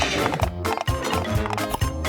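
A horse sound effect plays in a farm animal puzzle video game, giving a few rhythmic clip-clop beats against steady background game music with no talking.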